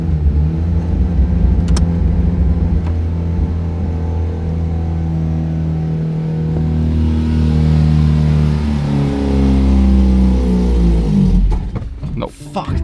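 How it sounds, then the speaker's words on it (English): A turbocharged Mazda RX8 engine drones and revs close by, its pitch rising and holding in a loud steady rumble, then falling away as sharp clatter and noise break in at the end. "I need to give it more revs."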